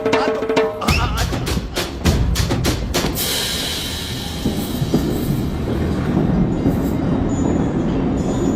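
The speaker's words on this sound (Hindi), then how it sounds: "मेरी ट्रेन छूटी जा रही है" A train pulling out of a station in a Hindi action-comedy film, with a loud rhythmic clatter of wheels over rail joints at first, giving way to a steady rolling rumble with a faint high squeal.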